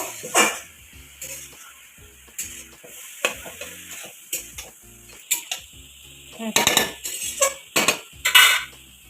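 Ponka greens being stirred and mixed in a pan, with repeated scraping and clinking of a utensil against the metal and a light sizzle underneath.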